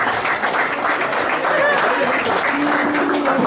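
Applause from a festival crowd welcoming a music group at a German folk gathering, steady clapping with faint voices and a few tonal cries mixed in.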